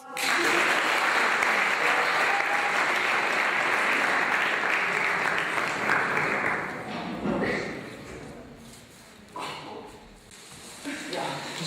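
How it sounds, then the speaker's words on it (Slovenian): Loud, dense applause from a crowd at a closing ceremony fills the first several seconds, then thins into scattered claps and voices talking. "En aplavz."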